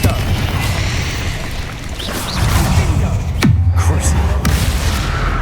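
Confringo blast spell explosions in Hogwarts Legacy: loud booming bursts over continuous dense combat noise, with a sharp whooshing impact partway through followed by a low rumble.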